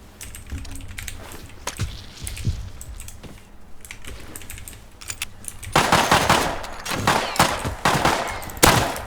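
Gunfire in the survival game Rust, with sparse single shots early on, then a dense, loud burst of rapid automatic fire in the second half, its sharp cracks and rattles standing clearly above a low ambient bed.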